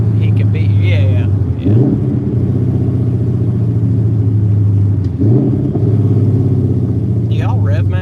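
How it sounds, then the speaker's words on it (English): Coyote-swapped Ford Cobra V8 running E85, engine droning steadily up close with brief rev blips during downshifts, heard under continuous talk. "Do y'all rev match when you downshift?"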